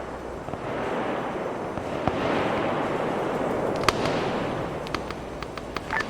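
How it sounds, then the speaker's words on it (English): Crackling volleys of distant gunfire from sweeper guns firing on infantry groups in the military game Arma 3, a dense rolling rattle with a few sharper near cracks standing out, no voices. "I guess the sweepers are manually firing at these infantry groups"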